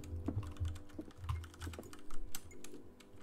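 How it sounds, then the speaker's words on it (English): Rapid clacking of a computer keyboard being typed on in a 3D video game demo, uneven bursts of close key taps with no talk. "You're just gonna sit there tapping away at your keyboard."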